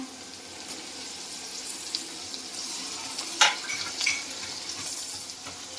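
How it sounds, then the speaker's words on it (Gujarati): Onions and tomatoes for pav bhaji sautéing in a pan, a soft continuous sizzle with occasional stirring scrapes and one brief sharp clink midway. "અહીંયા મેં કાંદા વઘાર કરી લીધા છે અને કાંદા સતળાઈ પણ ગયા છે અને હવે આપણે આમાં એડ કરી દઈશું ટમેટા"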